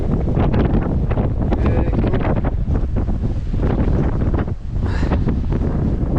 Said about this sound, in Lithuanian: čia vėjas pučia